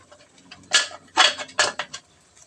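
A metal lid set back onto a cooking pot of simmering ginataang saang shells: a few clanking metallic hits and a rattling settle, close and clear with no voices.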